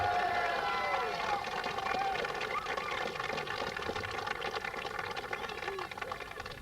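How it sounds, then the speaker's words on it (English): A crowd at a 1997 South East junior final between Courceys and Valleys gives a sustained round of applause for selector Kevin Kiley. The clapping is dense and steady throughout, fading slightly near the end. "I'd like to give him a big round of applause."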